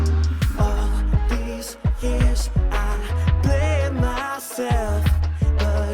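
Pop dance remix with a vocoder-processed lead vocal singing over a full, punchy beat with steady kick drums and bass, the robotic harmonized voice clearly forward in the mix.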